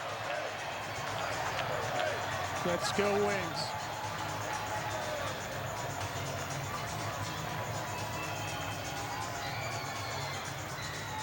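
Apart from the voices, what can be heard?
home crowd cheering at lacrosse game in South Philadelphia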